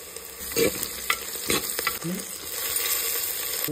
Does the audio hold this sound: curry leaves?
yes